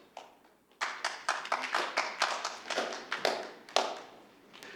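Council members at a May 2014 council meeting applaud after a unanimous vote, a short burst of a few people's sharp, irregular hand claps, close and moderately loud, fading out near the end.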